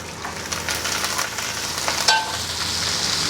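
Onions, curry leaves and amaranth leaves frying in a pan, producing a dense, steady sizzle with occasional stirring scrapes and a brief clink, close and fairly loud, no talking.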